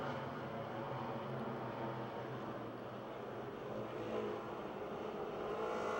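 Race cars circle the Pennsylvania Motor Speedway in Pittsburgh, a continuous distant engine roar with faint rising and falling revs, no voices.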